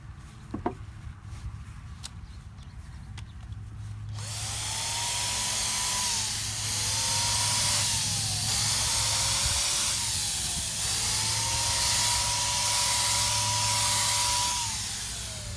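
An airless paint sprayer coating wooden bee equipment, starting after a few seconds of quiet handling clicks, then a loud, close, continuous hiss that rises and falls in pitch as the trigger and pressure shift, with no talk.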